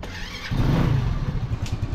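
A motorcycle engine starts up and settles into a low, steady idle rumble after a brief moment of quiet, close and fairly loud.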